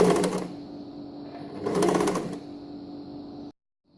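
A sewing machine stitches a centered zipper seam in two whirring runs at close range, with a brief slowdown between them and an abrupt stop into silence.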